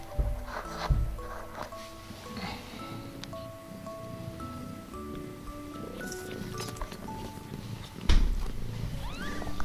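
Two-week-old kittens mew in thin, high, repeated cries, close and fairly soft, with light rustling and handling noises in a quiet room.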